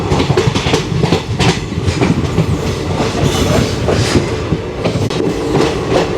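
The Vidarbha Express passenger train rolls toward Nagpur with a loud, close, continuous rumble and dense rhythmic clatter of wheels over rail joints. No voices are heard.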